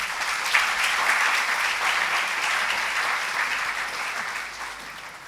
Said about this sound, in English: I will request Madam to felicitate with a huge round of applause.